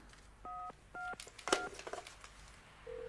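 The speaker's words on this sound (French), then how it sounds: "le téléphone compose le dernier appel reçu" A landline telephone auto-redials the last incoming call, playing three distinct DTMF dialing tones in quick succession, followed by brief clicks and a steady ringback tone starting at the end, in a quiet room.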